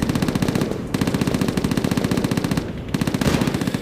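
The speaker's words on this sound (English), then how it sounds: "The sounds of battle flashing out." Rapid bursts of automatic gunfire in a video game battle rattle almost continuously, loud and close, with brief pauses between volleys amid a dense battle din.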